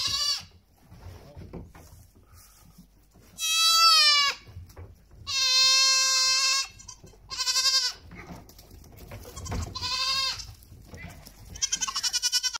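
Nigerian Dwarf goats bleating loudly on a farm, several sharp, wavering calls in bursts, with people talking and moving around in between.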